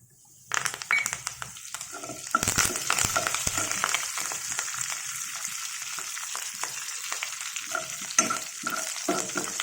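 Curry leaves hit a hot pan with a sudden sharp crackle, then a sustained sizzle with popping spits and a few metallic clinks of stirring, loud and close.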